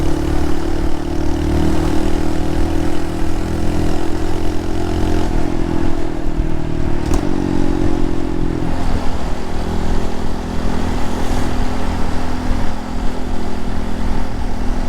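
A Honda motorcycle on a test ride, its engine a steady, continuous drone with a low rumble and a sustained hum throughout, loud and close with only slight shifts in pitch.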